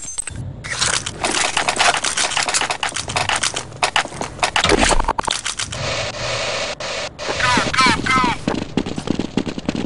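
Rapid gunfire from the Counter-Strike video game, dense bursts of rifle and pistol shots crackling loud and close, with short pauses and metallic clicks between volleys.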